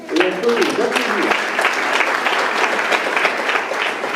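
Guests at a golden wedding anniversary celebration in Marly applaud the couple, a dense, sustained round of clapping at close range, with a voice briefly heard at the start.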